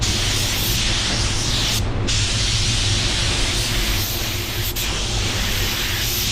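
A paint spray gun running at 21 psi blends PPG T4900 colour, giving a steady, close, unbroken hiss with no talking.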